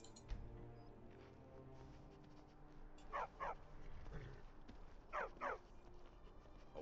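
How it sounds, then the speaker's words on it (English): A video game war dog in Skyrim barks twice in quick pairs, two separate bursts a couple of seconds apart, over a low, steady background hum. "A war dog is good company."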